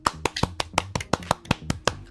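Hand claps, about ten sharp, evenly spaced strikes in under two seconds, fairly close and moderately loud, with no voices.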